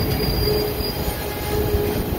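Hong Kong tram rolling along its street rails between Admiralty and North Point, a steady close rumble with a thin, sustained wheel squeal running through the whole stretch, no voices.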